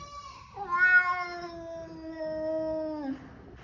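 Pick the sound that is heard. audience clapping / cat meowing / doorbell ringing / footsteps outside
cat meowing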